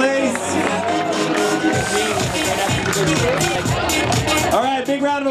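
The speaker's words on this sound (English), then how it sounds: "Big round of applause." Spectators at an outdoor summer bouldering competition cheer and whoop for placing climbers, lively crowd noise with scattered clapping under loud excited voices.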